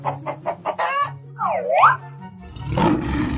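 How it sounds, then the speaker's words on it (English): A lion roar sound effect from a children's animal cartoon: a rough, rumbling roar closes out the moment, coming right after a few quick clucks and a bright swooping squeal. "Lion."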